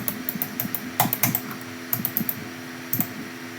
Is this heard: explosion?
no